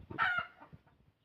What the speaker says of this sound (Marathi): ही कोंबडी आपली आहे, अंडी घालण्यासाठी जागा शोधत आहे.